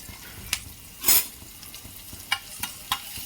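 Ginger, garlic and chili being stirred in a hot pan, with a soft sizzle under a few sharp scrapes and clicks of a spoon against the pan, one louder scraping burst, nearby and fairly quiet.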